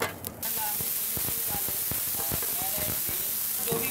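Cumin seeds crackle and sizzle in desi ghee in a frying pan, a sharp burst at first and then a steady, close hiss scattered with tiny pops.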